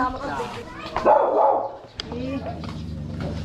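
A dog barks and yips close by, a few sharp barks mixed with whining, while people talk over it.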